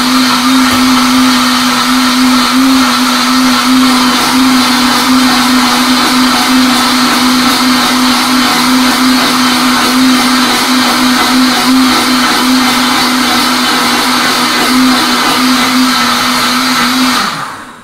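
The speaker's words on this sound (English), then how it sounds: "And while the blender is going, I'm going to add in the olive oil" A kitchen blender purees butternut squash soup with a loud, steady whir that runs unbroken for about eighteen seconds and cuts off abruptly at the end, with no talking over it.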